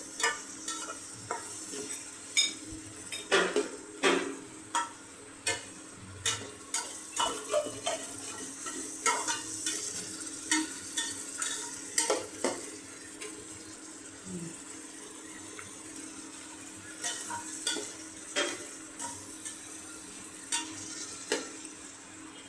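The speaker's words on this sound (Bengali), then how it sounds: "ভালো করে নেড়ে চেড়ে দিতে হবে যাতে নিচে লেগে না যায়।" Noodles with tomato, green chilli and salt are stirred in a frying pan: a low sizzle runs under repeated scraping and tapping strokes of the spatula, close by, with no talk.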